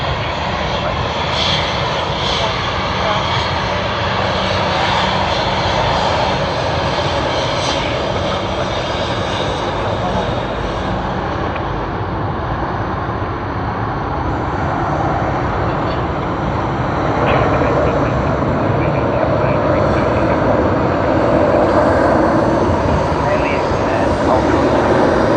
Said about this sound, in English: Let's capture the Embraer E190 of Qantas Link.